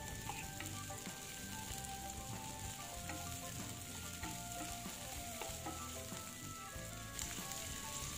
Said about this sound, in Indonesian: Lalu tambahkan cabai merah, kemudian diaduk hingga semuanya tercampur.